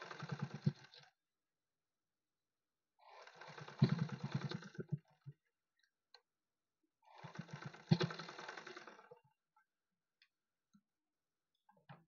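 Sewing machine stitching piping onto a blouse, three short bursts of close rapid mechanical whirring and clicking separated by silent pauses.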